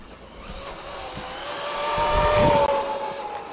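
MJX 10208 V2 RC car with a 12-tooth pinion running at full speed, a loud high-pitched electric motor whine rising as it accelerates and passes close, with tire noise, no talk.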